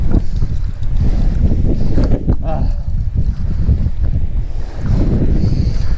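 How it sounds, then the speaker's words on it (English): Strong wind buffets the microphone during a fixed-gear bike ride in Benicia, California, a loud continuous low roar that swells and dips throughout. "It's too windy."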